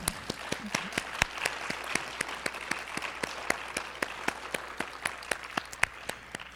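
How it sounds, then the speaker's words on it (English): Award ceremony audience giving the honorees another hand, a sparse, evenly paced clapping with a few loud individual claps standing out near the microphone, steady throughout. "Let's give the awardees one more hand, please."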